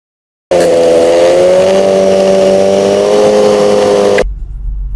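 A classic Mini car on a forest drive over a Welsh mountain road, its engine droning loud and steady at a constant pitch from inside the car, then cutting off abruptly near the end.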